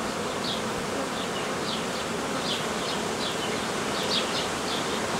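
Honey bees buzzing loudly and continuously at an opened hive frame holding honey, a dense close hum with occasional individual bees whining past.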